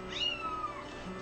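A single cat in a Zelda: Skyward Sword game gives one short, rising-then-falling meow, fairly close, over a low background hum.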